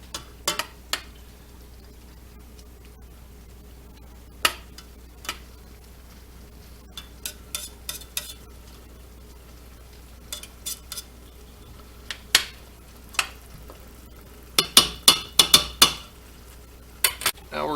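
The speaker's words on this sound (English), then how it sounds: "Stir it up real good. Want to get all that olive oil and the onions and the garlic just mixed through there real good." Olive oil, onions and garlic being stirred in a pot for a chili cookoff: scattered scraping and clinking taps of a utensil against metal, sparse at first, then a quicker cluster of knocks near the end, over quiet background.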